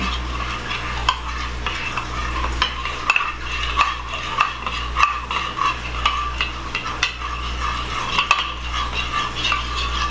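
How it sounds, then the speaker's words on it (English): Spoon stirring a thick slurry into blueberry pie filling in a pot, wet scraping and knocking strokes repeating unevenly and close by, with a soft sizzle underneath. "we're going to actually add this slurry into our mixture in there"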